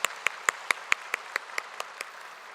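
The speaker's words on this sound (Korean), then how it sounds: "우리 하나님께 감사와 영광의 박수를 보냈으면 좋겠습니다." Claps from a church congregation at a Thanksgiving Sunday service, about a dozen sharp, evenly spaced single hand claps in a slow steady rhythm, fairly near, with no voices.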